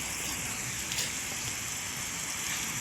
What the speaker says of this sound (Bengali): বৃষ্টি পড়ছে তাই।